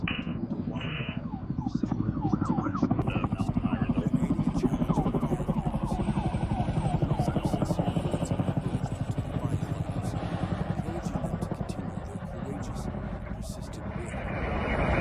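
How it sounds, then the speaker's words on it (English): A firefighting helicopter drops water on a wildfire, its rotor throbbing in a steady rapid pulse that stays loud and close throughout, with a rushing, clattering roar underneath. "Wildfire, helicopter dropping water."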